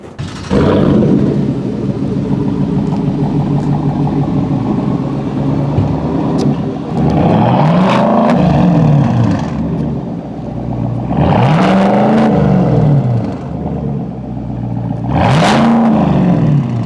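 Whipple-supercharged 6.2-liter engine in a 2023 Chevrolet Silverado High Country, revved repeatedly: three loud, rising-and-falling surges over a steady deep idle rumble, close by and without talk.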